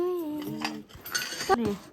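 Kitchen utensils and dishes clink and rattle as they are handled and unboxed as a gift, with a few bright metallic rings over a short stretch.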